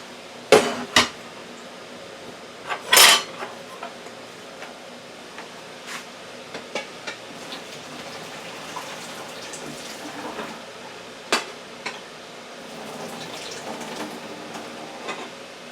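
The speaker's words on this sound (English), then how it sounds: "this is the carrots that was cooking in the pressure cooker. I'm pouring the water off" Water is poured off cooked carrots from a pressure cooker, and the splashing runs steadily in the background. Sharp metallic clanks of the pot and lid come through loudly near the start, with a few lighter knocks later.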